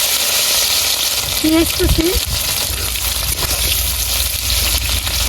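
Shrimp frying in hot oil in a pan in a village kitchen, a loud steady sizzle and hiss running throughout, with a few brief clatters and a short voice near the middle.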